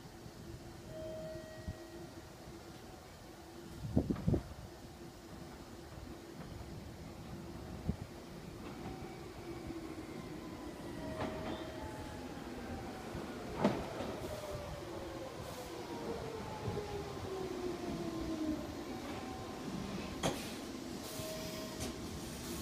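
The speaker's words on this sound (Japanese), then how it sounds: "4番線から電車が発車します" A Meitetsu Seto Line 6000 series electric train moves through Owari Asahi station with a low rumble, a few sharp clanks and rising then falling whine, steady and close throughout.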